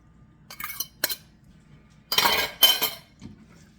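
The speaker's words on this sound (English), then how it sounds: "You have to mix this because the cloves won't mix well unless you stir it up first." A utensil stirs a garlic clove marinade for fried poussin, clinking against the bowl in a few short, crisp metallic bursts separated by quiet pauses.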